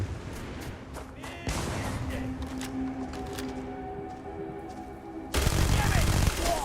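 Gunfire in the Starfield video game, bursts of sharp shots and thuds scattered across the clip, moderately loud, with a heavier burst near the end and talk over it.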